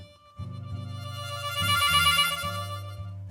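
Blues harmonica trill wavering rapidly between notes, starting soft and growing louder, with a few bursts of sustained reedy chords over about three seconds and no talking.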